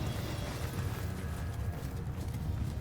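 Horse hooves thud in a dense, continuous low rumble of a Mount & Blade II Bannerlord battlefield, steady and loud throughout with no clear individual steps standing out.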